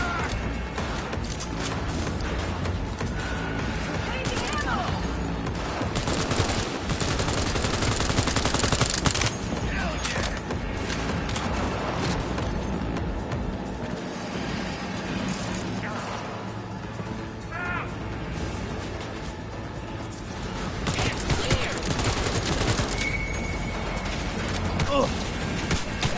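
Sustained firefight in Cyberpunk 2077 on PS5, with dense bursts of gunfire, rattling automatic weapons and mechanical clatter running continuously throughout, loud and close, with shouted voices mixed in.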